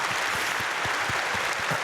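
A congregation at a dawn prayer service in a Korean church applauds in steady, dense clapping that fills the whole moment, loud and continuous with no voices over it.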